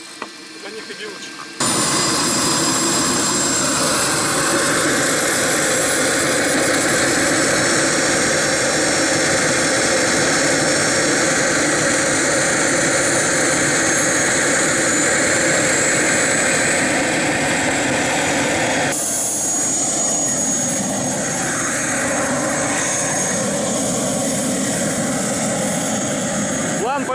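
A model jet turbine engine in an MB 339 Aermacchi radio-controlled model roars steadily at a loud, sustained high-pitched whine after a sudden start, holding full throttle for a long stretch with a slight shift partway.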